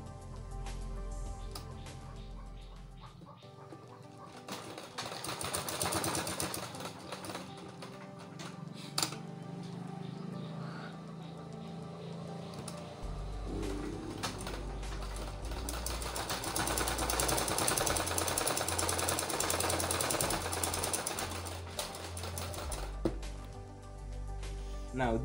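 A sewing machine stitches the front pocket of a pair of trousers, running in continuous rapid bursts with a steady mechanical rattle that starts and stops, close and fairly loud throughout.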